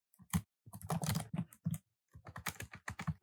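Java code is typed on a computer keyboard in quick bursts of close, crisp keystrokes, broken by a short pause midway, with no voices.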